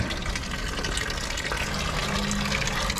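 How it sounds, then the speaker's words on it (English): Water from a hose pours steadily into the cooling system of a 1965 Plymouth Fury, a continuous close gushing and splashing that runs without a break. "We'll run the hose through it and I think fill it back up with water"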